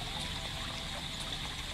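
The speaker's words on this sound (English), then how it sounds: "Water's gonna be coming through." Water flows steadily through pipes in a fountain puzzle game, a soft continuous trickle at low level with no talk over it.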